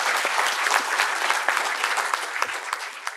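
An audience applauds steadily at a Marathi public talk about the history of the Dalit Panthers movement, a dense, sustained wash of many hands clapping together throughout, with no voices rising above it.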